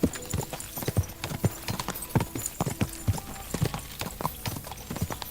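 Horse hooves clip-clop rapidly in a steady galloping rhythm in Kingdom Come Deliverance 2, close and loud, with a rider occasionally calling out to urge it on.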